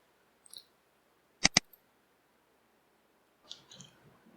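Mouse clicks at a computer while building a Java web page, a quick double click in the middle with a faint single click before and soft desk noises after, close and otherwise quiet.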